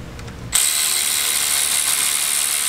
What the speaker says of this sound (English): We're going to torque these.